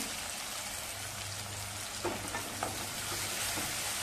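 Potato and fenugreek leaves stir-fried with softened tomato and turmeric sizzle steadily in a pan, with a couple of soft scraping stirs partway through and no talking.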